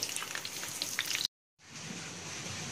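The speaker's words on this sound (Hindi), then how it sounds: "इसी तरीके से हम बाकी कटलेट्स को भी फ्राई कर लेंगे" Semolina cutlets made without potato sizzle steadily in hot oil, a dense crackling hiss that cuts out briefly and then resumes just as busy.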